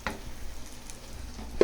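Hot oil sizzling and spitting as egg rice fries in a pan, a steady soft crackle with a few sharper splashes, close and fairly quiet with no one speaking.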